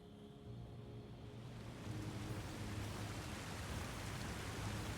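A waterfall in the video game Satisfactory, a steady, faint rushing hiss of falling water that builds slightly and holds even, with a low hum underneath and no talking.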